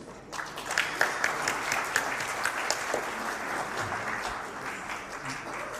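Audience applause for Cengiz at the opening session of the 9th Bosphorus Summit, a steady dense clapping from a large crowd that holds at an even level for several seconds and tails off slightly at the end.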